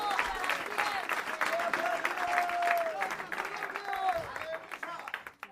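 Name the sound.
church congregation applauding in praise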